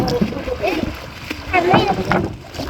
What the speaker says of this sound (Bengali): আমাদের সব লাভ দিয়ে পানিতে নেমে পড়ছে